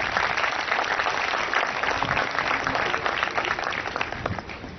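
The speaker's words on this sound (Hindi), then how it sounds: "आप इनके लिए भरपूर क्लैपिंग करें।" An audience at an award ceremony applauds with dense, steady clapping that stays at an even level for about five seconds. The clapping is heard alone, with no voices.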